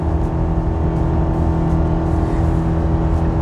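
A Chevy 1500 pickup's 2.7L turbocharged four-cylinder engine drones steadily under heavy load while towing uphill, a loud, constant low hum with no change in pitch and no talking.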